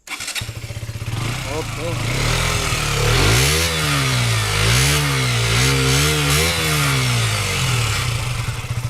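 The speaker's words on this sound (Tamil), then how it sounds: "ஸோ எக்ஸாஸ்ட் சவுண்டு வந்து எப்படி இருக்குன்னு சொல்லிட்டு பார்க்கலாம் வாங்க இப்போது" A KTM Duke 125 BS6 motorcycle starts up close by, then its exhaust revs repeatedly in rising and falling surges over a steady idle, loud and near, with a voice speaking briefly at the start.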